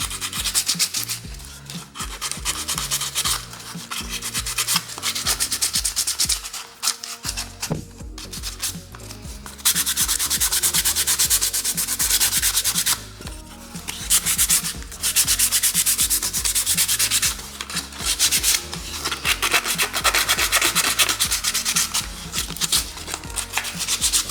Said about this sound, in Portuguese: E com a lixa mais grossa, eu vou reforçar um pouco mais aqui nos cantinhos.